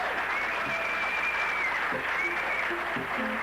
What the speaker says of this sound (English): May we have a round of applause for all our queens and princesses.